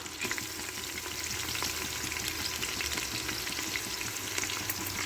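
Thinly sliced, lengthwise-cut onions fry in a pan for schezwan biryani, giving a steady, close hiss and crackle with faint stirring throughout and no talking.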